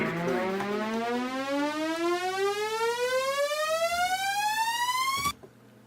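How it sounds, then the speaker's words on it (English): A riser effect in an electronic music track breakdown sweeps steadily upward in pitch, swelling for about five seconds. It cuts off abruptly and a brief faint tail follows. "So I'm going to take this riser effect and let's just have a listen."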